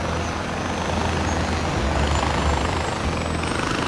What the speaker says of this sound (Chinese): 我哋搭直升机